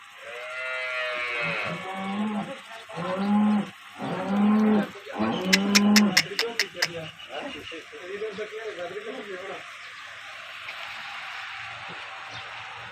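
A black cow moos several times in long, low, resonant calls, close by, with some background noise and a brief high tonal chirping in the middle.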